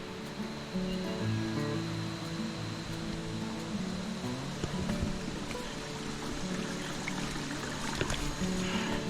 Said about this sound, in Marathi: हे बघा इथे धबधबा